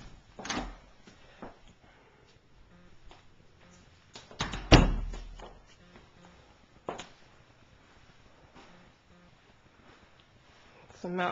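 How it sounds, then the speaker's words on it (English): A pantry door in a kitchen with oak cabinets, in a Fountain Hills, Arizona home, gives a few soft thunks and one louder knock as it opens and shuts, spread between quiet stretches. "And this would then be a pantry door."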